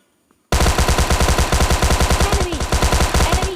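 Automatic gunfire rattles in the mobile shooter game PUBG Mobile Lite, a loud, rapid, evenly spaced burst of shots that starts suddenly after brief quiet and runs without pause.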